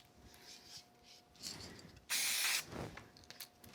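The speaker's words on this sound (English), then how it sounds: "I think what I'll do is just use some spray glue on the back and get them all nice and glued." Spray glue hisses from an aerosol can onto the back of paper in one short, loud burst, preceded by faint handling and rustling of the paper at close range.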